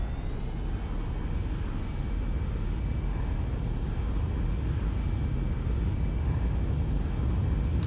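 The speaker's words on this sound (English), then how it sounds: "give her full power" Airliner engines at full takeoff power in the X-Plane 11 flight simulator, a steady loud roaring rumble with a thin high whine holding throughout.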